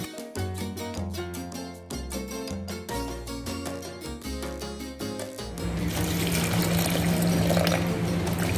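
About a cup of water is poured into a mixer jar for a mango and melon dessert, a rushing, splashing stream entering in the second half after a stretch of rhythmic music.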